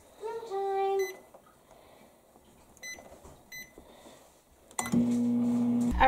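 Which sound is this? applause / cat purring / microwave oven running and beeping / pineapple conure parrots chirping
microwave oven running and beeping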